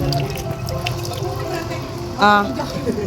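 Water trickles and splashes steadily into a cat's bowl close by, with a brief louder gush partway through and a voice murmuring in the background.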